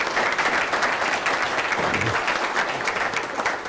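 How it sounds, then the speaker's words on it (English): An audience at a county commission meeting applauds, a dense patter of many clapping hands that continues evenly across the whole stretch. "give him a round of applause"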